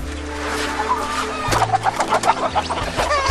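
Chickens on a farm in the Gaya Mountain region of Korea, in a coop planted with apple trees, cluck nearby in short, rhythmic, overlapping bursts that grow busier midway over a low background hum. No one speaks.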